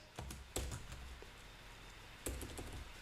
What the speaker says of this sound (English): you always want to be looking where you're typing